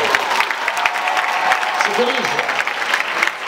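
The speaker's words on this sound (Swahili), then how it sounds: "Mpeni Bwana makofi jamani." A church congregation claps and cheers together in a dense, steady burst of applause, with voices shouting over the clapping and a single spoken word at the start.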